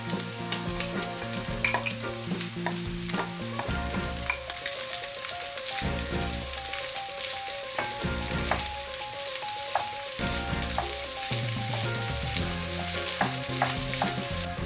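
Sausages frying with garlic and onion in a pan for frijoles charros give a steady crackling sizzle throughout, with occasional stirring scrapes and no talking.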